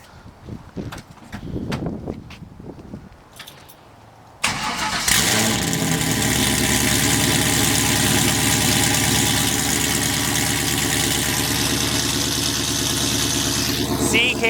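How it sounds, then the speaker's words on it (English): BMW M3 GTR race car engine cranking and catching with a sudden loud burst after some quiet noises, then settling into a steady, rough, loud idle close by. "The sound is about to come out of my car."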